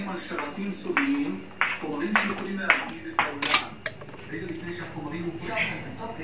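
Pots and utensils clatter during home cooking: a run of metallic clinks, scrapes and light knocks at close range, with a person talking over them.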